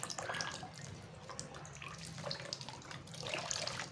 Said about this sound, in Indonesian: Kemudian tanaman tadi kita juga kita siram dengan cairan atau rendaman vitamin B1 tadi.